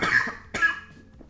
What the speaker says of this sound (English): So now you have an example of my cough.